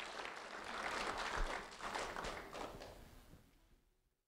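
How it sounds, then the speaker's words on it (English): Audience applause for a fourth grade student being honored at a school recognition event, a steady wash of clapping that swells, peaks and then tapers off to silence. "a round of applause for Daniel Andrade"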